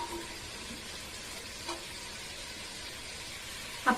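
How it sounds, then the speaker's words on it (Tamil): Potato, carrot and cabbage hiss and sizzle steadily in a hot pan for vegetable biryani, a soft continuous frying sound close by with a faint stir near the end and no talking. "இப்ப நம்ம எடுத்து வச்சிருந்த காய்கறியை ஒன்னா சேர்த்துடலாம்."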